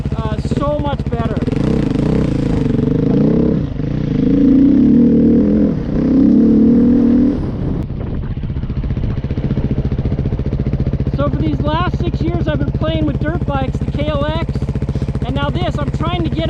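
A street-legal, motocross-style motorcycle with a newly changed sprocket, ridden with a steady engine drone and throttle surges rising and falling throughout, close and loud, with someone talking over it.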